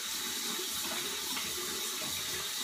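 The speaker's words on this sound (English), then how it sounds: "Rinse out all this nasty hair." Tap water runs steadily into a sink while hair is rinsed out, a constant close hiss and splash with no pauses.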